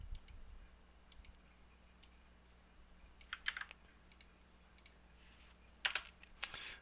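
Quiet, sparse keystrokes on a computer keyboard while entering VPN options over SSH, a few isolated clicks and two short bursts of typing over a faint steady hum.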